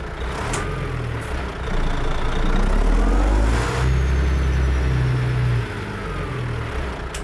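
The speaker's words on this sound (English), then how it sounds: "Good sounding engine." Truck engine in American Truck Simulator: a loud, steady diesel rumble that rises and swells as it revs, then settles back to a lower drone, with no voices.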